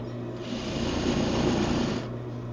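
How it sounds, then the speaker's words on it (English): Sewing machine running a steady, continuous edge stitch along a pants pocket bag, a close mechanical hum that speeds up slightly mid-run and then slows, no talking. "And you're going to edge stitch that on."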